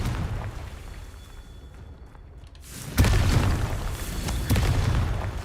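Confringo blasting spell in Hogwarts Legacy, a sudden loud booming explosion after a brief hush, followed by rumbling debris and a second burst, close and alone without talk.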